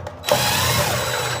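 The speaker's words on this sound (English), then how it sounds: "So I'm using a drill, a 1/4 inch," A 1/4 inch power drill bites in after a brief quiet start and whirs steadily while boring a mounting hole for a sensor beside a walk-in cooler unit.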